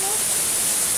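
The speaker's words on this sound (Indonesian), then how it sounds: "air terjun yang sangat baru" A newly built waterfall at the Kaligua agrotourism site in Brebes, a steady loud rush of falling water with a brief voice at the start.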